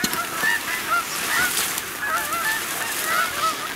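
Geese honk repeatedly overhead during a waterfowl hunting opener, several birds calling in overlapping bursts at moderate distance over a steady outdoor background, with no talking.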